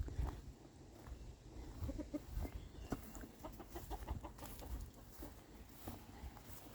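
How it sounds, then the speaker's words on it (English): Chickens cluck and murmur at a garden coop, soft and somewhat distant, with irregular short clucks scattered across a quiet outdoor background. "Chickens are also well."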